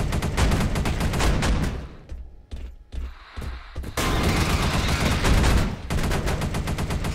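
Rapid automatic weapon fire from the sci-fi co-op shooter Space Beast Terror Fright roars in dense, loud sustained bursts, broken by a short pause of sparse shots before resuming full-auto.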